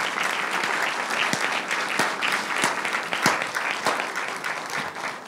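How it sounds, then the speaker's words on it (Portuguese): An audience at a talk marking International Women's Day in Coimbra breaks into sustained, dense applause that holds steady and loud throughout, with many hands clapping together. "eu penso que você merece uma salva de palmas também por isso"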